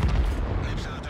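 A tank's main gun fires in the online armored-combat game World of Tanks, a heavy booming blast with a rumbling low tail that fills the brief moment, loud and close, with a voice talking over it.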